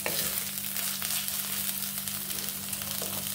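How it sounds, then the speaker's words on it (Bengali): Ginger-garlic paste fries in a pan as it is stirred for chicken kanti, a soft continuous sizzle with faint crackle and a low steady hum, fairly quiet and without talk. "এবার আমি আদা রসুনটা নেড়ে নিয়েছি 1 মিনিট।"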